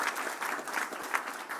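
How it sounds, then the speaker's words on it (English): A short burst of dense audience applause at a business and transit community event, many people clapping steadily at close range without a break. "Let's give a round of applause for them."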